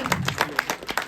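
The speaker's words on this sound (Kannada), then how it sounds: "ಇನ್ನೊಮ್ಮೆ ಜೋರಾದ ಚಪ್ಪಾಳೆ" Audience clapping at a Kannada film song launch event, a short burst of scattered claps from a nearby crowd.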